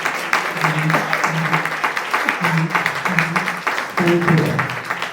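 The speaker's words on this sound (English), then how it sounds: "Let's give them a round of applause" Audience applause at an NAACP Boulder County candidates forum for the evening's hosts, a steady wash of clapping from a hall crowd with someone speaking briefly over it.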